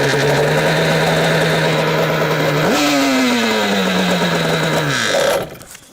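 An engine on choke runs loud and close, rough and throbbing; it revs up sharply partway through, settles back down, then cuts off abruptly near the end.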